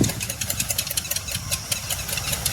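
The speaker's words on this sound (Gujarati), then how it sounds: "અહીં ટ્રેક્ટર હાલે છે, ઓપનર હાલે છે" A tractor engine runs steadily with a low, chugging hum and rapid knocking pulses, fairly close and continuous throughout, on a farm with an opener implement.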